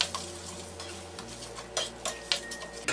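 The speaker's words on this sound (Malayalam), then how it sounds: "ഇതെല്ലാം കൂട്ടിയിട്ട് നന്നായിട്ടൊന്ന് മിക്സ് ചെയ്ത് യോജിപ്പിച്ചെടുക്കാം." Tomato ketchup being stirred into homemade pizza sauce in a pan, with a utensil scraping and tapping against the metal in irregular strokes over a low background hum.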